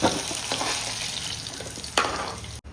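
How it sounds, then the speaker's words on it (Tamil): Garlic and onion sautéing in a pan, a close continuous sizzle with a couple of sharper stirring scrapes and a brief cut-out near the end, no speech. "பூண்டு, வெங்காயம், பூண்டு வதங்கிட்டு"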